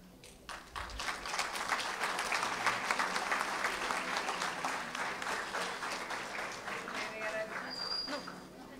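Sustained audience applause for a presenting team at a conference session, steady dense clapping throughout that swells and then tapers slightly near the end, with faint voices mixed in.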